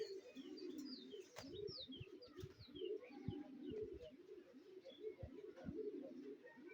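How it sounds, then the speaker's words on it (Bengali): Many pigeons cooing together in a group, a dense, continuous run of low, throaty coos at moderate distance, overlapping in an irregular rhythm, with a few higher chirps from other birds mixed in. "অনেক কবুতর"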